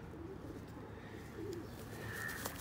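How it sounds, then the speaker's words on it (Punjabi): Sialkoti pigeons coo softly at a distance, a few low rolling calls over a quiet rural background hum, with a faint brighter chirp near the end. "ਸਿਆਲਕੋਟੀ ਕਬੂਤਰ ਨੇ ਜਿਨ੍ਹਾਂ ਨੇ ਸਿਆਲਕੋਟ ਦਾ ਨਾਮ ਬਣਾਇਆ।"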